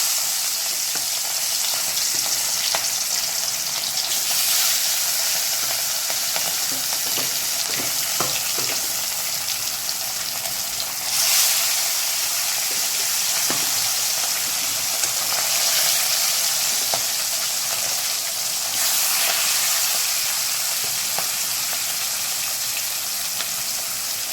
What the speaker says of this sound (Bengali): তেলটা গরম হয়ে গেছে, এবার মাছটা ভেজে নেব।